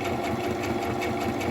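A sewing machine stitches a long strip of fabric for ruffles, running in a continuous, even mechanical hum with a rapid needle patter, close and steady throughout.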